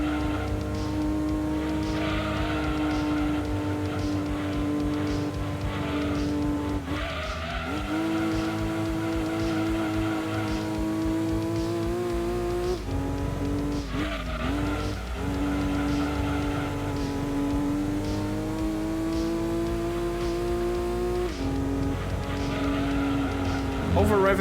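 Race car engine from the PS1 game Gran Turismo 2 during an 80's sports car cup race, droning steadily throughout with shifting revs, gear changes and brief tire squeals, loud and continuous.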